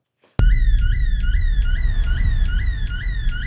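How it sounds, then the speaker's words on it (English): A car alarm cycles through repeated rising and falling warbling tones, loud and continuous after a sudden start, over a low rumbling background, in a The Last of Us Season 2 trailer. "That alarm is so familiar from the game."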